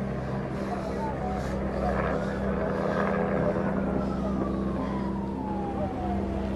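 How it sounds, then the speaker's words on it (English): A helicopter's steady, loud drone fills an action film scene, layered with a tone that slowly slides downward like a passing siren. "That's the chopper. The money's on the chopper."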